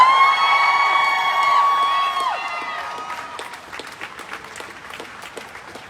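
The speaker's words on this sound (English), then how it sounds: "Let's give one more cheer for Larry Pohutsky" A crowd at an abortion rights protest rally outside the Michigan Capitol cheers with a loud sustained whoop and shouts, then breaks into scattered, fading applause and clapping.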